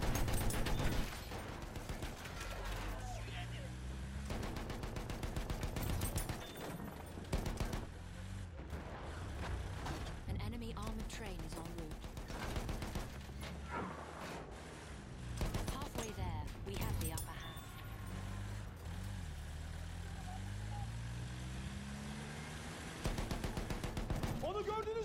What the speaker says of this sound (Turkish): Dikkat eyleyin makinalı tüfek! Yine o tüfek!